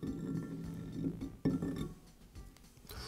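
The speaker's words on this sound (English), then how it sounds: "now I can pull the spindle out of the jaw" A steel spindle is drawn out of the jaw of a Wilton bench vise, giving a few light metallic clinks and knocks, with a sharper clink near the middle over a faint workshop background.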